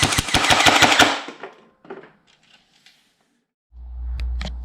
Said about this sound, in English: let's set it to full auto and see what the rate of fire is